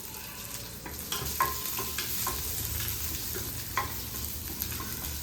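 Green chillies and curry leaves fry in oil in a pan, giving a steady, close sizzle with a few sharp crackles and pops and light stirring scrapes throughout.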